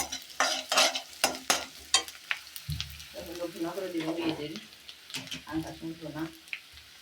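Metal spoon scrapes and clanks against a pan in sharp strokes over sizzling onions frying with ginger paste, followed by a stretch of speech over the frying.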